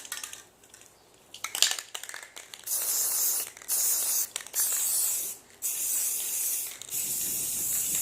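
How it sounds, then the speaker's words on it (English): A spray paint can is rattled and then sprayed onto a picture frame in several hissing bursts of a few seconds each, close and fairly loud, with clicks and a shaken-ball rattle before them. "we're going to go ahead and spray paint another coat onto this frame"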